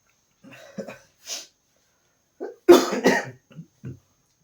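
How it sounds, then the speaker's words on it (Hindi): A person coughs in several separate bursts, a few light hacks followed by one louder, harsher cough and a couple of softer trailing ones, close to the microphone with quiet gaps between them. "खांसी बहुत आ रही है।"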